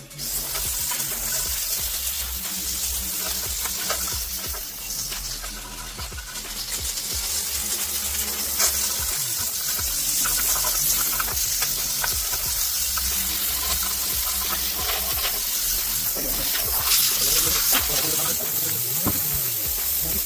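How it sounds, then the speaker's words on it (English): A steam cleaner blasts an oily, brush-scrubbed frame from a Honda Melody two-stroke moped, giving a steady, loud, close hiss and sizzle that runs unbroken with slight surges throughout. "let's fire up the steamer."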